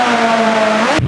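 McLaren car on an off-road test, a loud close engine drone with steady pitch that rises slightly before cutting off abruptly near the end.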